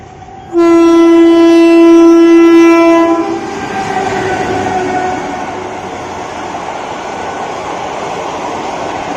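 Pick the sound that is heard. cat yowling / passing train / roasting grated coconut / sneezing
passing train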